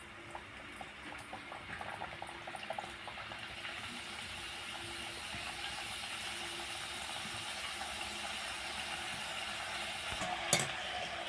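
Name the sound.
Bingo mad angles snacks frying in hot oil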